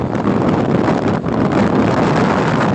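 Loud, continuous wind roars and buffets across the microphone, dense and unbroken apart from a brief dip midway.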